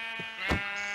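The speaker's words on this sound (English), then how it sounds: "Three sheep in one area." A sheep in a video game gives a single short, buzzy bleat, close and clear over a steady background tone.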